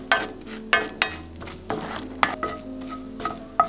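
Beaten eggs scrambling over low heat in a pan with scallions, a soft continuous sizzle punctuated by several sharp spatula scrapes and clinks against the pan, close up with no talking.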